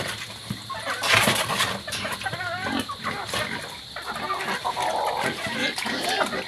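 Chickens cluck on a farm alongside pigs, busy overlapping clucks and squawks over constant livestock noise and background hiss.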